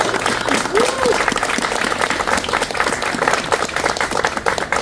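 A city gathering applauds Deputy Director of Planning Bob Azar, a room full of steady clapping at moderate loudness with a brief whoop early on, continuous throughout.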